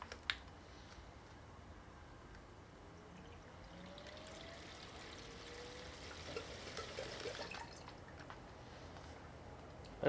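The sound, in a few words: watercooling liquid flowing back into the reservoir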